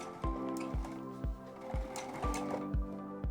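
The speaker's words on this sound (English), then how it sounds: "I just finished sewing over the last strap" A sewing machine stitches around the edge of a mini tote bag in quick bursts of rhythmic mechanical thumps, close and fairly quiet, with small clicks between the runs.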